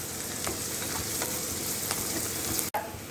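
Fish eggs fry in a pan with a dense, close crackling sizzle, steady throughout with small pops and one brief dropout near the end.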